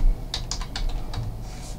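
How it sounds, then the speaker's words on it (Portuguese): Quick bursts of typing on a computer keyboard, about eight to ten close key clicks in an uneven rhythm over a low steady room hum, with no talking. "Deixa eu digitar aqui."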